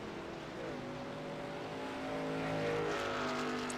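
Race cars in a racing video game doing burnouts, a steady layered engine drone with rising revs and a hint of tire squeal, fairly loud and continuous with no talking.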